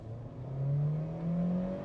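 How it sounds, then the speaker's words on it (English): A 2014 Honda Civic EX engine accelerates hard into VTEC, a steady rising rev tone climbing smoothly in pitch over about two seconds, heard from inside the car without talking. "Oh, there's that good sound. There we go. Yep, that's VTEC. That's a real VTEC."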